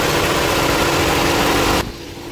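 A car engine idles with the radiator cooling fan running, a loud steady whir and hum that suddenly cuts down partway through, leaving a quieter engine drone.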